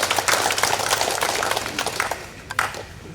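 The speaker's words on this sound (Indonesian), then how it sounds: "tepuk tangan buat kita bersama" Audience applause at a ceremony for the formation of a new regency, scattered clapping at moderate level that thins out toward the end.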